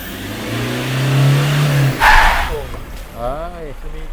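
A car engine revs during a repair test in a workshop, a sustained mid-pitched drone that swells and cuts off, with people talking loudly over it afterward.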